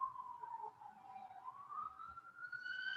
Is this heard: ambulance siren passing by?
yes